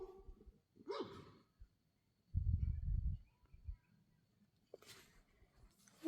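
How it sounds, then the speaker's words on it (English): A dog barks outdoors in a natural setting, a few nearby barks in one short burst with quiet gaps around it and faint rustling. "she better not be barking at me."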